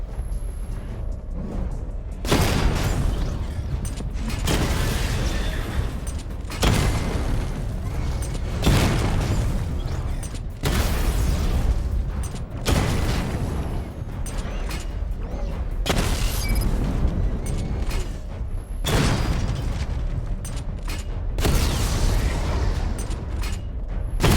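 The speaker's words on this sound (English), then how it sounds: "Charge the missile barrage to level 2 to destroy up to 4 targets at once." Rapid missile barrage fires in Batman: Arkham Knight, a series of loud booming bursts and explosions in repeated waves with brief mechanical gaps between them.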